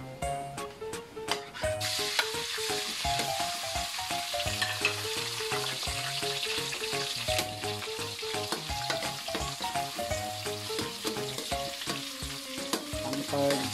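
Liver sautés in a pan for Bicol pancit bato, giving a continuous close sizzle and frying crackle with faint clinks of stirring throughout and no voices.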